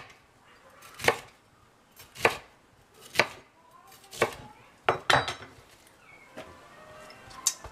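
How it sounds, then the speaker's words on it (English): A knife slices red peppers on a cutting board: about eight sharp, close knocks at an uneven, unhurried pace, with quiet pauses between cuts and no talk. "for the red peppers, slice them however way you want"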